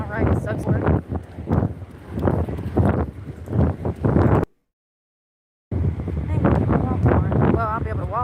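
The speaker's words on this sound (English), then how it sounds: "God damn, it's so windy." Wind gusts buffet the microphone outdoors in strong conditions, a steady rumbling roar under a person talking, with a brief silent gap midway.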